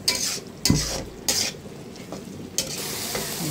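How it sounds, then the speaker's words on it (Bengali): Spice paste of turmeric, chili and coriander powders with ginger-garlic paste fries with onions in a pan, a steady close sizzle broken by a few sharp scrapes and clanks of a stirring spoon, no voices. "হলুদ গুঁড়া, মরিচ গুঁড়া, ধনিয়া গুঁড়া, আদা রসুন বাটা দিয়ে ভালো করে মশলাটা কষাই নেব।"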